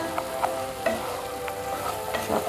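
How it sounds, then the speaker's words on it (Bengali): Cashew nuts fry in a pan with a steady close sizzle and crackle. Intermittent soft stirring scrapes sound through it, and no voices are heard. "ভালো করে ভেজে নেব। কাজু বাদামগুলো দিয়ে দেবো"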